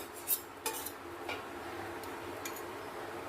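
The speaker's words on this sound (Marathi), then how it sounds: "मसाला घालून बुंदी मिक्स करून घेते" Masala boondi being mixed with fried curry leaves, raisins and cashews in a metal vessel, with a few sharp spoon clinks and ticks over a soft, rustling shuffle, close by with no talk.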